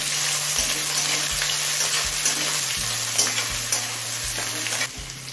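Slit green chilies and grated ginger fry in hot oil in a pan for a Bengali kochu shak labra, giving a loud, steady sizzle broken by regular scraping stirs.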